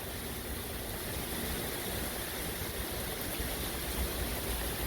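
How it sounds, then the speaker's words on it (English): Heavy rain pours down as Tropical Storm Claudette makes landfall on Dauphin Island, a dense, steady roar of water that holds at an even level through the whole stretch with no voices. "Super heavy rain."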